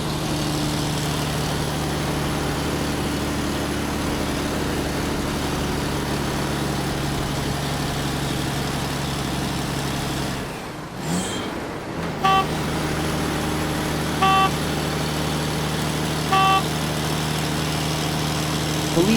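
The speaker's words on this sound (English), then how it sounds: "Water tank." Toy water tank truck from an airport vehicle set, a steady engine drone with a brief dip near the middle, then short beeping toots toward the end, with no voices.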